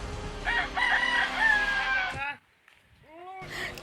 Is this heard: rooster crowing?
yes